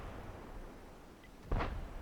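A tank cannon shot in World of Tanks, a single sharp, heavy boom arriving suddenly after a quiet rumbling stretch, moderately loud and trailing off.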